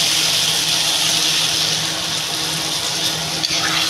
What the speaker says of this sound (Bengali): আমি এবার সবজিটাতে জল দিয়ে দেবো।